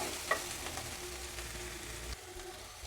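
Coriander and turmeric powder frying in a pan for a Kerala green peas curry, a steady close sizzle with faint stirring scrapes and a brief clink near the start.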